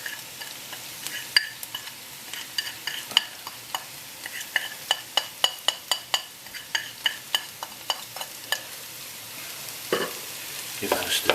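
Onions frying for a Nepalese Gurkha curry are stirred after salt goes in, a spoon scraping the pan in a steady run of sharp clicks over a soft continuous sizzle, close and fairly loud with no talking.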